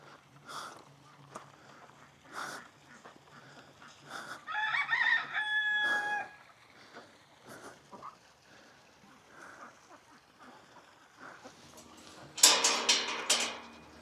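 Chickens and a rooster at a backyard coop cluck on and off, with a crow in the middle and a louder burst of squawking near the end, with faint voices between calls.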